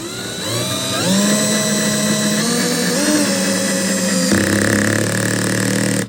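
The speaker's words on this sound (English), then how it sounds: "this is my normal drill with the dewalt bit in" A power drill fitted with a DeWalt bit, set at 10, whirs steadily for several seconds, its pitch rising and dipping under load as it drives a screw, then cuts off abruptly.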